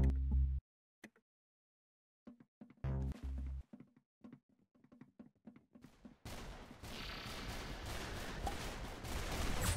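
Bursts of shooter video game gunfire, loud and close, come in short clusters separated by silence, then give way to a dense, continuous wash of sound.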